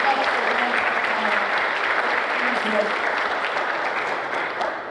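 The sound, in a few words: applause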